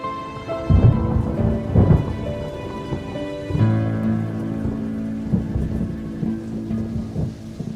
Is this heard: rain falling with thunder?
yes